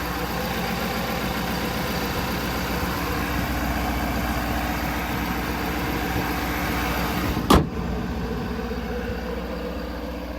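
A 2023 Ford F250 XL's 6.7 liter Powerstroke turbo diesel idles with a steady low rumble and a faint turbo whine, close and even throughout, broken once by a brief sharp knock.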